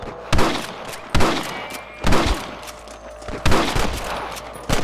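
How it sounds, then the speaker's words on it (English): Gunfire in the video game Red Dead Redemption: about five loud, sharp shots with echoing tails, spaced roughly a second apart, with no talking over them. "I can hear more gunshots."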